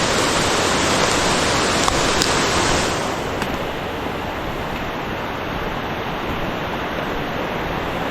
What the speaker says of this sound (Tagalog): Malakas ang patubig.